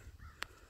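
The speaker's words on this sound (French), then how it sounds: "Là, regardez, il y a une corneille là." A single short crow caw rings out once, faint and somewhat distant, over low outdoor background noise; the bird is a juvenile crow, injured and struggling to take off.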